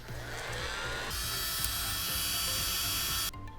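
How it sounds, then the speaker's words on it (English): A heat gun blowing on a solder sleeve over motorcycle wiring for a 2021 Suzuki DR-Z400SM headlight and blinker upgrade: a steady, loud electric whir and airflow hiss that rises and holds, then cuts off abruptly near the end. "And then with your heat gun, you could also use a blow dryer if you don't have a heat gun"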